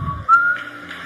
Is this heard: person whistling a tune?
yes